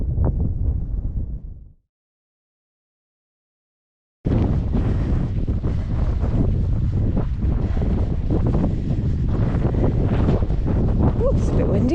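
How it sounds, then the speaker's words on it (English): Strong wind on a fell top at Wansfell in the Lake District buffets the microphone in a loud, steady roar, briefly cut off by a short silence before rushing back in. "It's a bit windy up here."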